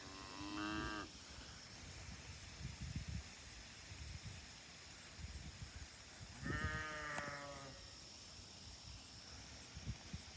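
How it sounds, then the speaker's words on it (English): Cattle moving off through an alfalfa pasture with sheep nearby, two distinct moos or bleats separated by several seconds, over soft hoof shuffling and rustling outdoors. "cows are moving off,"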